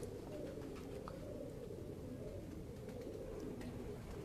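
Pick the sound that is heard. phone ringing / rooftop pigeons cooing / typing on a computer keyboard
rooftop pigeons cooing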